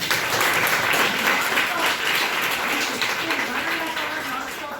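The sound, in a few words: audience applause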